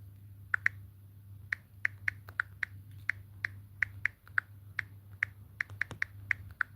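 Crisp, close keystrokes tap out on a keyboard in an irregular typing rhythm, over a steady low electrical hum with no talking.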